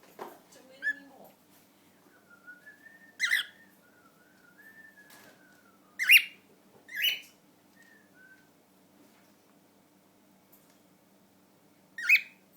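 Two pet cockatiels whistle in clear, warbling tonal phrases broken by a few sharp squawks and chirps. The calls come in separate bursts over a quiet background.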